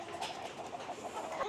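Chickens inside a new, shiny farm caravan on an Australian egg farm, soft coos and clucks murmuring continuously at moderate volume throughout the short stretch.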